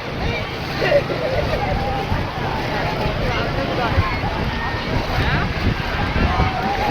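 Wind and surf roll in on the sea beach at Cox's Bazar, a loud steady rush of wind buffeting the microphone over breaking waves, with people talking nearby.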